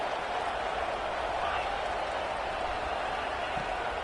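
Stadium crowd in the College Football 26 video game, an Indiana versus Ole Miss matchup, roars as a steady, dense wash of cheering ahead of a big third down, with no one talking over it.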